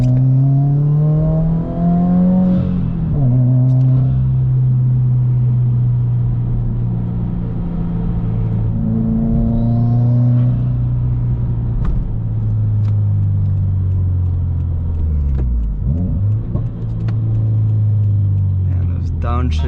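A modified Subaru WRX with a pro tune pulls hard from 0 to 60, its engine droning loud and close from inside the cabin with rising revs, brief shift dips and a voice talking over it.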